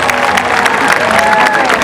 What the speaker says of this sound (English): Everybody, give it a round of applause for Ulises here saying hello to everyone.